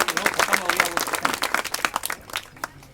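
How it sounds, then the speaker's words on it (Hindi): An audience claps and applauds at a Hindi comic poetry recitation, a dense run of rapid, fairly close claps lasting nearly three seconds before thinning out near the end. "एक बार ताली बजाकर मुझे आदेशित करिएगा"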